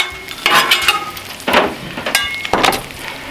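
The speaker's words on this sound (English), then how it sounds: "we're gonna get our hash browns on one side of our skillet here" Hash browns with bacon fat sizzling in a skillet on a Cuisinart 360 griddle, a steady close crackle swelling into three louder bursts of frying hiss about a second apart.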